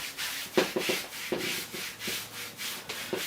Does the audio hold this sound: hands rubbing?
yes